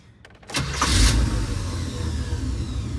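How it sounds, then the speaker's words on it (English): A Chevrolet El Camino engine cranks briefly with no gas pedal, catches with a loud rising burst, then settles into a steady, even running idle close by. "She running and she sound good."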